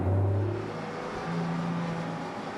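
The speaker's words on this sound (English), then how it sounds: "It's not everyone who gets a chance to take the new 911 Gt3 Rs out for a spin on the Bilsterberg track" Porsche 911 GT3 RS engine driving on the Bilster Berg race track, a steady close engine drone with a pitch shift partway through, heard alone for a couple of seconds.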